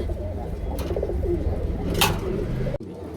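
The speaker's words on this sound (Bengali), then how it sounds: "দেখেন কবুতরগুলা" Pigeons coo in soft, repeated throaty calls, close by and steady, with a few brief rustles and a sharp knock near the end.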